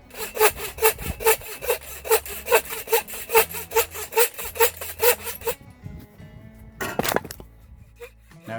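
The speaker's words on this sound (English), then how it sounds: "I need to take these splits and get them sawn and chopped down." Split firewood being cut with a hand saw, a steady run of loud, rhythmic rasping strokes close up, then a pause followed by a brief final burst of sawing.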